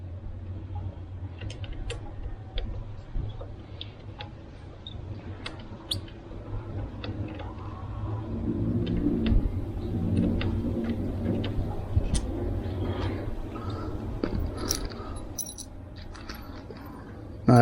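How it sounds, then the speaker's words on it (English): Allen head bolts are worked loose from the brake reservoir of a Honda Goldwing GL1800 motorcycle, giving faint, scattered metallic ticks and small clicks of the tool against the bolts, close by in a quiet space. "we've got to remove the two Allen head bolts that are holding the brake reservoir on"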